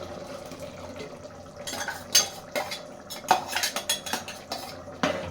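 A spoon stirring ground tomato paste from three tomatoes into fried masala in a pan, giving a run of scraping, clinking strokes against the metal at close range with no talking.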